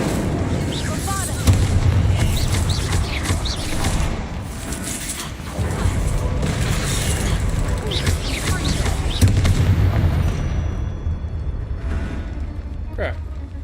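Explosive fire and blast spells cast in the video game Hogwarts Legacy produce loud, continuous booming and crackling detonations with dense rumbling layers, fading toward the end, while a person speaks over the action.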